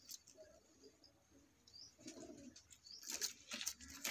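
A pair of Kasuri pigeons, including a female, coo softly and faintly, with light chirps and brief wing flutters close by.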